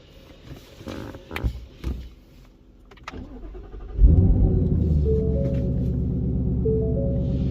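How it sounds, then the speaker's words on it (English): A 2020 Saleen Mustang sits quiet behind a few clicks and thumps, then its engine cranks and fires with a sudden loud roar and settles into a steady, deep, close idle rumble. "Now the vehicle's running."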